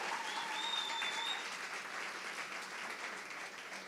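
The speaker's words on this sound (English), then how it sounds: "So please give them a loud round of applause. Give them a cheer." A large commencement crowd claps steadily at a state ceremony, a soft, distant, even wash of applause that slowly tapers, with a brief whistle near the start.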